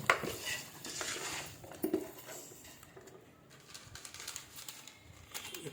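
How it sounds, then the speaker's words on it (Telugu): Masala spices, including coriander powder, being stirred in a pot for chicken biryani: repeated close clinks and scrapes of a utensil against metal, quiet and irregular, with no talking. "బాగా కలుపుకోవాలి మసాలాలు."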